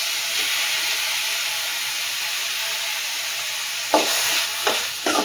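Chopped tomatoes sautéing with softened onions in a pan, a constant loud hissing sizzle with a few sharp stirring scrapes and clatters near the end, no voices.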